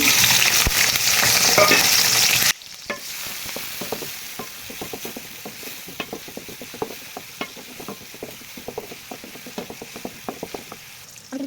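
Loud, full frying hiss of chopped onion, green chili and tomato in hot oil, heard while cooking chicken bhuna. It drops abruptly to quieter sizzling with repeated sharp scraping clicks of a spatula stirring the pan.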